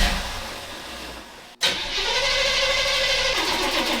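A 1970s Chevy shorty van with a freshly charged battery cranks briefly, catches and fires up, then settles into a loud, steady idle close by.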